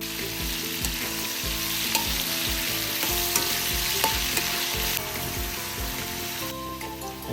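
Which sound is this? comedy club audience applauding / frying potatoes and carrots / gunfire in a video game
frying potatoes and carrots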